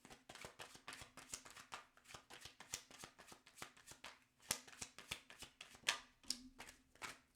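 Tarot cards are shuffled by hand in a quick, steady run of riffling slaps and flutters, close and fairly quiet, with no talking.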